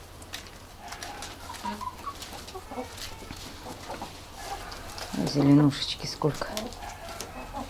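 Chickens cluck and murmur around a backyard compost heap near a turkey, with scattered bird calls and outdoor rustling beneath someone talking.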